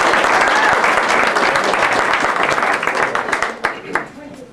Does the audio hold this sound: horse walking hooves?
no